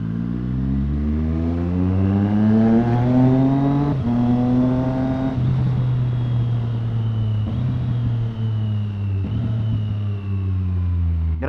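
A Triumph Street Triple R motorcycle with a quickshifter accelerates hard, its engine rising in pitch through each gear, broken by a series of quick, clean upshifts. The sound is loud and close, with no talking.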